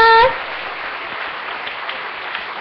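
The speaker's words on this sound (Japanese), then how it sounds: "どうぞ大きな拍手をお願いいたします。" Audience applause at a robot combat competition final, a dense burst of clapping that rises right after a brief announcer's voice at the start, then carries on steadily and loud to the end.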